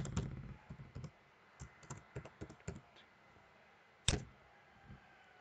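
A password tapped out on a computer keyboard for a voter registration login: a quiet run of irregular key clicks in short clusters, then a sharper, louder keystroke like Enter, with no talking.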